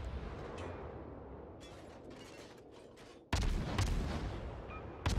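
Naval gunfire in World of Warships, a steady low rumble of distant battle that drops away, then a sudden loud broadband blast of a salvo near the end, followed by a second sharp report.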